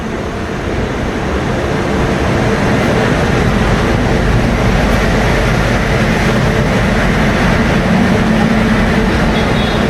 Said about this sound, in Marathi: हे बघा मित्रांनो इंजिन चाललंय पुढे लागायला आता